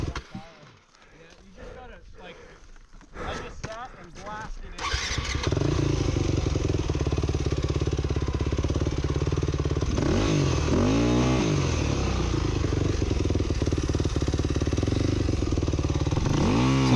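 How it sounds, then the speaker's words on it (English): A dirt bike engine revs hard and continuously while the bike is pushed up rocks on a rough trail, loud and close, after a quieter stretch of clattering and idling. "So you're having to just rev it out and push with all your might to get the bike up."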